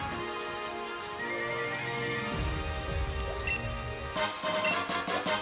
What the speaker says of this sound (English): Ooh, raining.